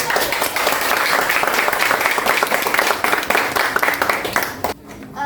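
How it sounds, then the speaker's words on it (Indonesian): Classroom applause as a student group is called to the front to present a science experiment on making magnets, many hands clapping rapidly and close for several seconds before cutting off abruptly near the end. "Tepuk tangan dulu"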